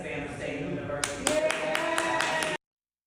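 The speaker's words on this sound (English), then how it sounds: "Cheers and applause." A few sharp claps ring out over a murmuring crowd, building into a brief burst of applause that cuts off abruptly.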